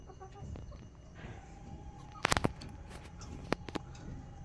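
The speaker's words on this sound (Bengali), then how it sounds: "দেখো এই মোরগটা অনেকটাই বড় হয়ে গিয়েছে।" Sonali chickens and a rooster on a poultry farm, with soft clucking against a low background and a few sharp, loud calls bursting out near the middle and again toward the end.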